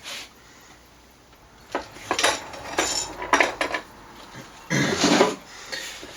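Woodworking rasps, a double cut among them, clink and rattle as they are picked up and shuffled. The metal knocks come in several loud bursts, up close, with no talking.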